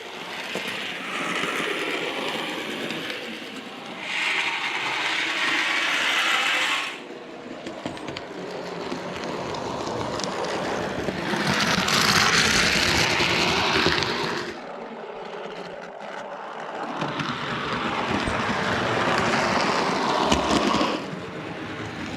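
A Lionel TMCC O scale model ballast tamper runs along track, its motor whirring and rumbling in waves that rise and fall as it passes close and then moves away, with no talking.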